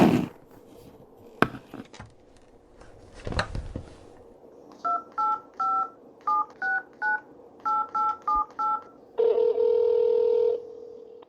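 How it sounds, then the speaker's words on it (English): A phone number being dialed to call a witness's mother: about a dozen crisp touch-tone beeps in quick, slightly uneven bursts, followed by a steady, loud ringback tone, all close and clear over quiet room noise with a few clunks beforehand. "Detective Romero decided to contact the witness's mother again, this time by phone"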